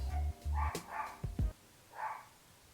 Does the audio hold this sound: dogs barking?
yes